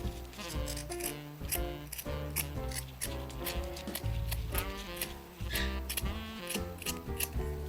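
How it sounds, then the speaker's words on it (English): Scissors snipping repeatedly through a long strip of fabric scrap, a brisk run of crisp, close metallic cuts in an uneven rhythm with no voices. "all you want to do is cut a long strip for the scarf"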